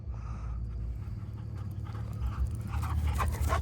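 A dog pants rapidly and steadily close by inside a car, the breaths layered over a constant low engine and road rumble.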